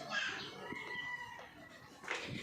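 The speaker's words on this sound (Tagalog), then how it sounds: "So ito yung mga sisiw niya." Chicks and chickens clucking behind a house, faint cheeps and short clucks, with a brief chirp near the end, quiet and somewhat distant.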